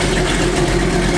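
A car engine fitted with an Edelbrock AVS2 carburetor and 6842 metering rod idles steadily and close, a continuous low rumble with no talk over it.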